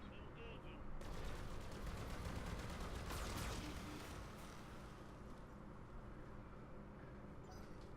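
Mech weapons in the BattleTech game unleash a rapid volley of gunfire and explosive bursts that rattle for a few seconds, then fade into a lower rumbling, quiet overall.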